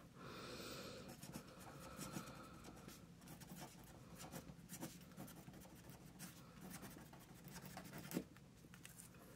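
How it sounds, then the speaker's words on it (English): A pen scribbling loose marks across paper for a junk journal collage, quiet close scratchy strokes in irregular bursts, with a slightly louder tap near the end. "Just scribbles, basically, okay?"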